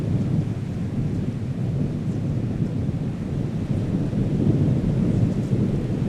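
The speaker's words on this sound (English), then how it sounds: "Suddenly, a storm draws near." A thunderstorm rumbles with dense low thunder and steady rain, and wind buffets the microphone throughout. The noise stays loud and continuous.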